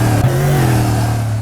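A Lexus GT3 race car in a racing video game runs hard under acceleration down a hill in engine map 3, with a loud, close, sustained engine note that stays strong and even.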